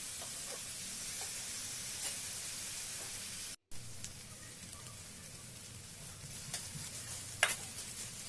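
Chopped onions and green chillies fry in hot oil and are stirred now and then, a steady broadband sizzle with soft scraping strokes and a brief drop-out midway.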